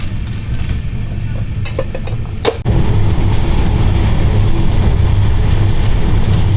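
A passenger train speeds along the rails in India at over 108 km/h, heard from inside as a loud, continuous rumbling roar with a sharp brief clatter partway through, and no voices.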